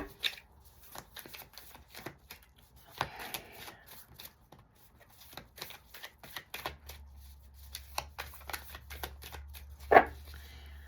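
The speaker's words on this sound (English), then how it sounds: "I don't know how to do anything fancy with the shuffling either" Cards being shuffled in bursts of quick riffling and soft slapping, close and fairly quiet, with a louder flutter near the end and a low hum underneath.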